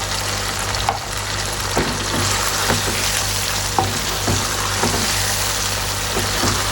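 Chicken karahi masala with chillies is stirred in a hot pan, a steady close sizzle and frying hiss broken by soft scraping strokes, with no voices.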